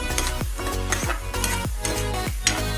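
Sardines sizzle loudly in a hot pan as a utensil stirs them in repeated strokes, each scrape swelling the frying hiss, close up with no talking.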